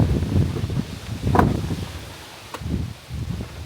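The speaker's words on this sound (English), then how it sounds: "It's really windy here, by the way." Gusty wind buffeting a microphone outdoors beside a BMW X7, low rumbling bursts that rise and fall in irregular waves, with a brief rustling burst partway through.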